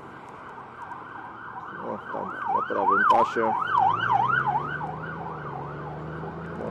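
A wailing ambulance or police siren sweeps up and down repeatedly, growing louder then fading, over road noise and a Honda Gold Wing 2021 motorcycle engine, with a person speaking briefly.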